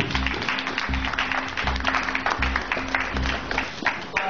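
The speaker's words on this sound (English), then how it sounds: "let's give her a round of applause" A museum audience at a panel discussion on Black artists in Los Angeles claps in a steady, moderate round. The clapping continues throughout, with a faint low hum beneath it.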